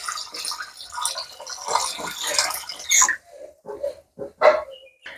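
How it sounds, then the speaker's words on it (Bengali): Rice being washed by hand in water in a kitchen: several seconds of wet swishing and sloshing, followed by scattered short splashes and a few brief higher sounds. "আর এই যে চালটাকে ধুয়ে নিচ্ছি আমি।"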